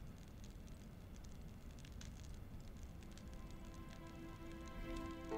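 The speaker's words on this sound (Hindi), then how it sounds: "बारान रहमत यूं बरस रहा है जैसे आखिरी बार हो।" Heavy rain pours steadily at night, a continuous soft hiss of drops that stays fairly faint and even throughout, with no voices over it.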